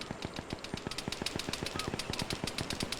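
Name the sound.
gunfire from the video game Arma 3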